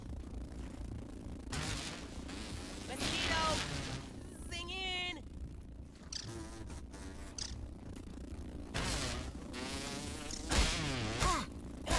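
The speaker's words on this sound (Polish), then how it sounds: "O nie, drugi komar." In the video game Grounded, a mosquito drones and whines steadily with a wavering pitch, with game effects and bursts of impact noise mixed in, while someone talks over it throughout.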